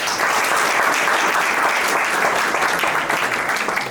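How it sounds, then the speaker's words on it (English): An audience at a moot court competition final in Karachi applauds continuously, a dense, steady wash of many hands clapping at close range. "Clapping for her."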